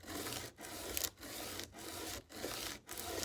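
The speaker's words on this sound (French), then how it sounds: "je le mets bien à plat sur ma table de ponçage. Et de nouveau, avec des mouvements va-et-vient," The flat back of a wood chisel rubbed back and forth on a sanding table, a steady scratchy rasp in about five even strokes with brief pauses between them, close and fairly quiet, with no talking.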